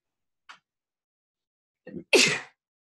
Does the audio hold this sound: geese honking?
no